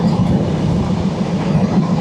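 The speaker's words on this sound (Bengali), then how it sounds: "ট্রেনটি খুব দ্রুত গতিতে যাচ্ছি আমরা, অনেক দ্রুত গতি।" Sundarban Express train speeding along on the Dhaka–Faridpur line in stormy, rainy weather, giving a dense, loud, continuous rumble and rattle with no pauses.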